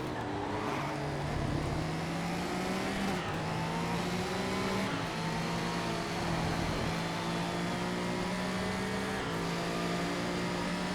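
A Porsche GT2 race car's engine in the Race Driver: Grid video game roars continuously, its pitch climbing through gear after gear with brief shift dips, loud and close with no talking.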